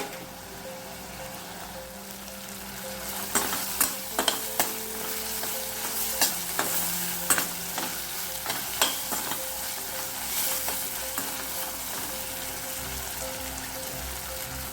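Tomatoes and onions sauté in a pan for a Tamil sundaikkai kara kulambu, a soft, steady sizzle punctuated by a dozen or so sharp spoon clicks as they're stirred, with no voices.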